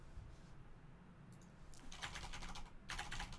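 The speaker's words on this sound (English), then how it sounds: "I got a new keyboard and it's mechanical, so it's insanely loud" A new mechanical keyboard being typed on, quiet at first, then bursts of rapid clacky keystrokes, close and fairly crisp, with a short pause between the two runs.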